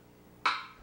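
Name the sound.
stick gently tapping a hollow log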